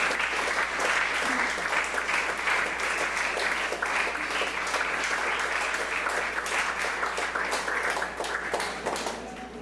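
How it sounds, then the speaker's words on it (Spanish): Church congregation clapping loudly and enthusiastically, dense sustained applause from many hands filling the room, holding strong throughout before easing slightly at the end. "Dale fuertes palmas al nombre de Jesús."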